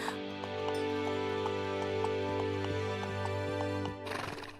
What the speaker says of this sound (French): Maintenant, Shani, j'espère que tu es prête à galoper un peu.